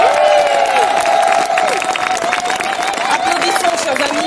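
Crowd applause and cheering at a public cultural gathering, loud and sustained throughout, with scattered whoops and voices mixed into the clapping.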